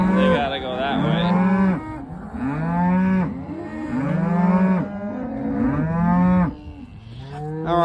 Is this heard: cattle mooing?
yes